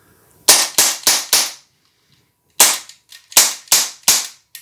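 An Umarex HK VP9 CO2 BB pistol fires with blowback action: a rapid string of four sharp, close snaps, a pause, then five more crisp shots with clean silence between them.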